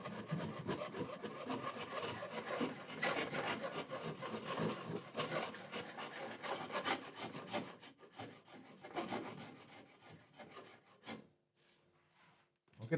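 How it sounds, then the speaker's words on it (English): Sandpaper rubs rhythmically by hand along a carved Australian rosewood guitar neck, with close, steady back-and-forth rasping strokes that break off near the end into quiet. "I'll do some sanding now with papers."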